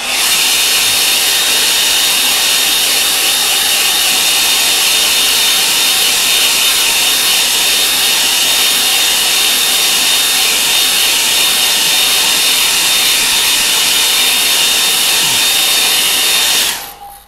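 A hair dryer runs continuously to dry a painting, a loud, steady whirring hiss that holds level for the whole stretch and cuts off abruptly at the end.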